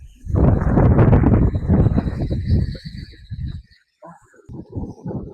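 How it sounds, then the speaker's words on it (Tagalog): Strong wind on a farm buffets the microphone in a loud, rumbling roar that fades briefly before gusting again. "Malakas ang hangin."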